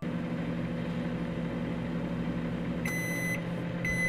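Microwave oven running with a steady electrical hum, then two sets of high, bright completion beeps near the end, sounding alone.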